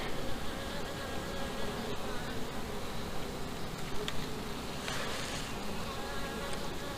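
Dense, steady buzzing of many honey bees at an open hive during inspection fills the air close by, a continuous hum with occasional louder passes.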